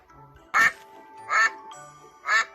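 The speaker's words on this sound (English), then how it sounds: "This is a duck, and the duck says" Three loud, clear duck quacks, evenly spaced, from a children's farm-animal lesson; each bright burst stands alone between faint background tones.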